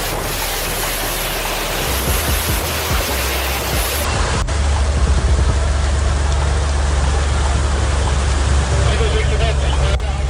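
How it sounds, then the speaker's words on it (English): Floodwater rushes as a torrent through the streets of Bruchsal under heavy rain, a loud, unbroken roaring hiss that fills the whole stretch with steady, wash-like noise. "historic floods turned streets into rivers, sweeping cars away in a torrent of water"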